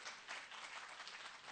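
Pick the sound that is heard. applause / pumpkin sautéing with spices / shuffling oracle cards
applause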